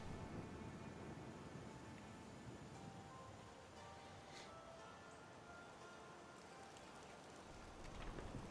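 Steady rain pours in the video game Skyrim running the Nolvus modpack, a dense, continuous hiss of falling drops that holds at an even level throughout, with no talk over it.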